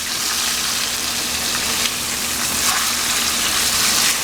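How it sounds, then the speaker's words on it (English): Oxtails browning in a frying pan give a steady, loud, close sizzle that holds without a break, a dense hiss of hot fat with no talking over it. "I'm going to finish browning these"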